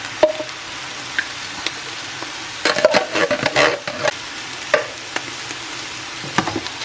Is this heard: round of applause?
no